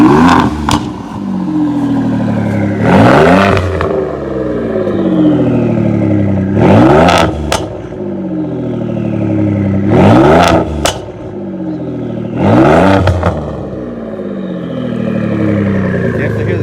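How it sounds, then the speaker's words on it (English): A turbocharged 3.5-liter Ford EcoBoost V6 with a cat-back exhaust revs hard in repeated bursts, each climbing and falling back to a loud, steady idle between, close to the microphone. "Definitely hear the turbos."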